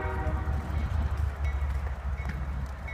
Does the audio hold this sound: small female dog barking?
no